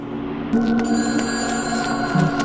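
Phone ringing in the video game Shadow of the Damned, a bright electronic ring tone held steadily with a brief warble near the end, loud and alone without voices.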